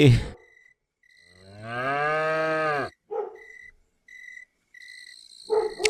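A cartoon cow gives one long, loud, low moo. Short high electronic beeps and chirps sound before and after it, and brief bursts of other noise open and close the scene.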